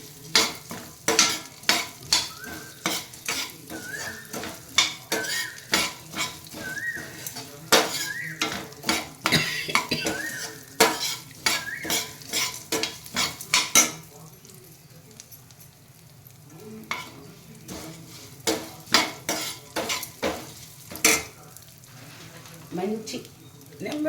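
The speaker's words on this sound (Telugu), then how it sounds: "అల్లం బాగా పచ్చివాసన పోయేంత వరకు వేపిస్తాము" Ginger fries in a pan while a metal spoon stirs and scrapes it in quick, repeated clinks, with soft sizzling underneath and a brief quieter stretch before the stirring resumes.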